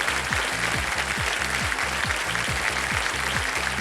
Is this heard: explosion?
no